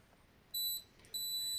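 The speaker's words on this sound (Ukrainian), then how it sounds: "Пищить вона." Two short electronic beeps from a Lii-M4s power bank circuit board, each a steady high tone lasting about a quarter second, close and clear over a quiet room.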